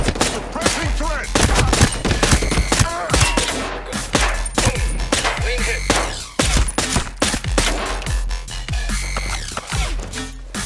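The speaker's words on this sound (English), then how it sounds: "Cover fire! Suppressing threat!" Video game gunfire rattles in dense, loud bursts of rapid shots with overlapping impacts, a near-continuous fusillade that barely lets up across the whole stretch.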